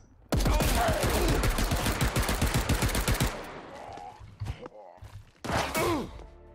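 Gunfire in the game Paint the Town Red, a loud, fast automatic burst of evenly spaced shots lasting about three seconds, then scattered impacts and a voiced groan, before another short burst.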